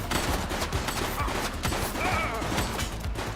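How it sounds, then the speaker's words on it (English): A dense, continuous barrage of gunshots in a GTA video game firefight, loud and steady throughout with overlapping cracks and no pauses. "She's shooting!"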